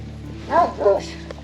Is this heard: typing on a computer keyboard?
no